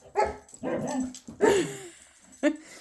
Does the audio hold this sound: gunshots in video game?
no